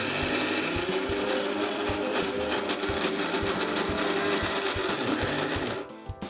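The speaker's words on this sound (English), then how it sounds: "Let's start with grinding the soaked lentils for the batter" A wet grinder steadily grinding soaked lentils into a thick batter with minimal water for kanji vada, a loud continuous mechanical whir with rhythmic churning that cuts off near the end.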